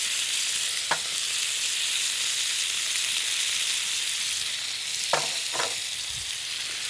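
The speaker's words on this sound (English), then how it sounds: "The less you overcrowd the pan, the more you get a nice, healthy sear." Steak tips searing in an uncrowded hot pan, a steady close hiss and sizzle with a few brief scrapes or clinks of a utensil, no speech.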